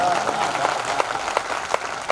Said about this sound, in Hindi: हमें भी तालियों की गड़गड़ाहट अच्छी लगती है।